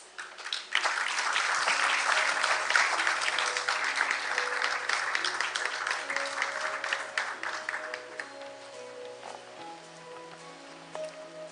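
A crowd applauds to welcome panelists, debaters and a moderator onto the stage at an opening ceremony in Seoul. The dense clapping fills the hall loudly, then slowly thins and fades while a soft musical tone lingers beneath.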